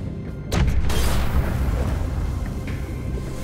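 A bomb goes off in The Walking Dead video game, Season 4: a sudden loud, close boom about half a second in, followed by a heavy sustained rumble that stays loud to the end.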